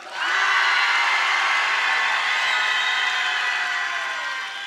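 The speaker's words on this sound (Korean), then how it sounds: "부산 박수 함성 시작" A church summer camp audience erupts in loud, sustained applause and shouting cheers, a dense roar that holds for several seconds before easing slightly.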